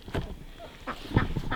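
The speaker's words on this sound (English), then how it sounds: "these ducks and chickens really don't seem like they have any interest in being put away at this time" Homestead ducks quacking in short bursts, several quick calls close by over a few seconds, with chickens kept nearby on the farm.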